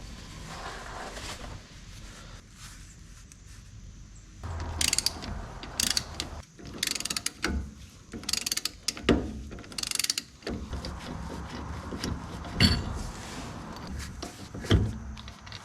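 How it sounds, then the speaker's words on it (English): Breaker bar with a 15mm socket loosening the strut bolts on a Chevy/GMC Tahoe, Suburban or Yukon: repeated metallic ratcheting clicks and clanks in bursts, with sharp knocks and pauses between, close up and no voices. "I'm going to grab a 15mm socket and a breaker bar and just break these loose."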